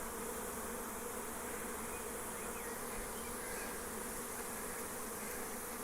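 Honeybees hum around a 50-frame beehive in the sun, making a dense, continuous buzz that stays steady and close with no talking.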